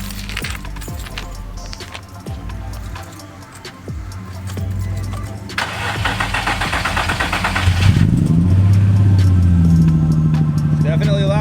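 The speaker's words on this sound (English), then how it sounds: "time for the first start with the new test pipes" A Nissan G35 with newly installed test pipes: a starter whirs briefly, then the engine catches with a loud burst and settles into a steady, throaty idle, with clanking and shop noises beforehand and someone talking nearby.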